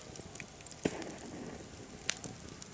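A meditation fire crackles quietly and steadily, with two sharp pops standing out against a soft, constant hiss.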